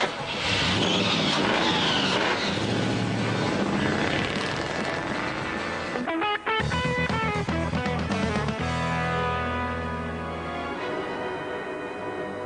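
A 300-horsepower supercharged 3.5-litre Rover V8 in a rally-bred road car roars loudly and continuously, its pitch shifting as revs rise and fall, with a brief dip midway before the engine note climbs again.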